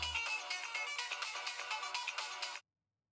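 A mobile phone ringtone signals an incoming call in a Hindi-dubbed South Indian romantic thriller, playing loud and continuous as a bright repeating melody for about two and a half seconds before cutting off abruptly.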